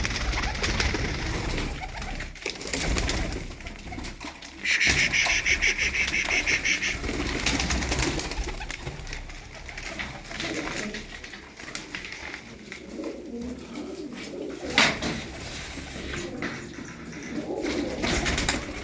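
Pigeons coo softly over a steady rustling background, with a brief burst of wing flapping partway through; no one speaks.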